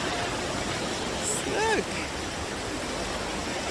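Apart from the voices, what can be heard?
fast flowing river in Switzerland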